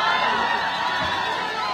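A crowd at a Malava campaign rally cheers loudly to welcome politician Seth Panyako, a dense, continuous roar with raised shouting voices filling the short moment.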